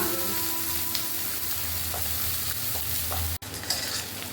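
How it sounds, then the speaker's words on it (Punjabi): Onions frying in oil with a spoonful of cumin seeds give off a continuous crackling sizzle with light stirring scrapes. The sizzle cuts out sharply for an instant near the end, then resumes, and nobody talks. "ਹੁਣ ਆਪਾਂ ਇਹਦੇ ਵਿੱਚ ਇੱਕ ਚਮਚਾ ਜੀਰਾ ਪਾਵਾਂਗੇ ਜੀ ਪਿਆਜ਼ ਨੂੰ ਭੁੰਨਾਂਗੇ"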